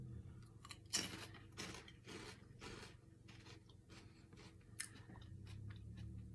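Crunchy pork rind being chewed close up, a series of crisp bites and crunches with uneven rhythm, loud at first and continuing in softer grinding chews, with no talking.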